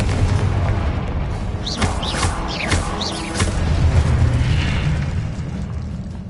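Confringo blasting curse from Hogwarts Legacy erupts as loud booming explosions with sharp bursts and whistling streaks, layered over a continuous rumbling game soundscape.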